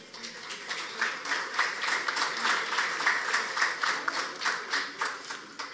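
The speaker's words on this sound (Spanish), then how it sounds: "Un fuerte aplauso para la abogada Esther Venegas Saldívar." An audience at a business forum applauds a lawyer speaker: a crowd clapping in a loose rhythmic pulse, with regular swells of fairly strong clapping lasting throughout, and no speech over it.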